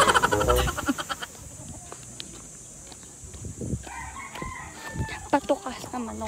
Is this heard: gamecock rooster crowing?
yes